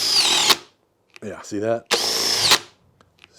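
Cordless drill driver boring into wood with its torque clutch set at 20, two loud whirring bursts split by a brief pause with a spoken remark in between, the second burst cutting off abruptly as the clutch stops it.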